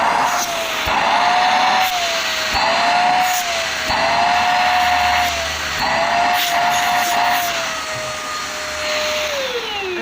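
A newly unboxed vacuum cleaner's motor runs continuously with a strong suction whine that wavers slightly as it is moved, loud and close with occasional bumps and no talking.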